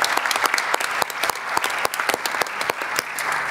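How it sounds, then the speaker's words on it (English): Applause for forum panelists at an ILO conference, a short lively round of many hands clapping close by, uneven and dense with sharp individual claps standing out. "give them a round of applause in addition to the individual round"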